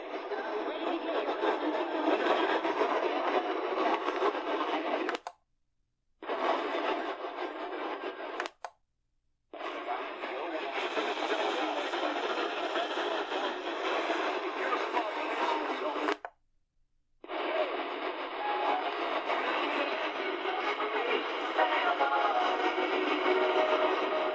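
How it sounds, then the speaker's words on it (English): Jumbled nighttime AM radio reception on a Radio Shack 12-898 portable, three or four stations crowding each other, muddy voices and hiss running together, broken by three brief dropouts to silence. "That's a mess of stations. It sounds like 3 or 4 over each other."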